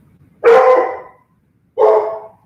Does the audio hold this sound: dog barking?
yes